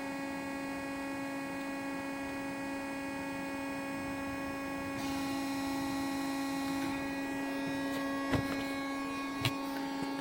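An Akyapak AHS bending rolls machine, a Morgan Rushworth AHS 30/16, runs with a steady electric hum and drone that grows slightly louder midway, with a couple of faint clicks near the end.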